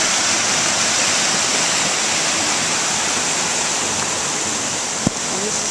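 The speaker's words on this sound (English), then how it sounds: "It's now a raging torrent." Floodwater from Hurricane Irene rushes as a raging torrent along the edge of a residential property by the street, a loud, constant broadband roar close by with a brief knock near the end.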